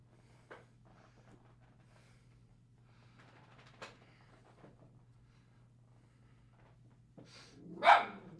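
A dog lets out a few soft, scattered snorts and sniffs, then gives one loud, sharp bark near the end. A faint steady hum runs underneath, and nobody speaks.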